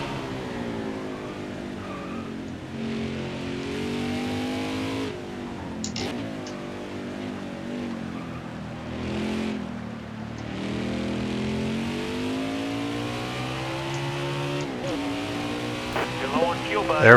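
A NASCAR Cup race car in NASCAR Heat 5 runs a fast lap at Mid-Ohio, its engine droning steadily with rising and falling pitch through shifts and corners and occasional tire scrub, loud and continuous beneath a voice talking throughout.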